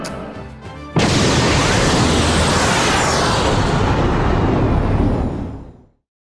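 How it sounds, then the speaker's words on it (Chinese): A bomb exploding in the sky in a One Piece anime battle scene: a sudden huge blast that cuts in abruptly, rumbles loudly for several seconds, then fades out. "炸弹在天空爆炸，拯救了整个广场的危机"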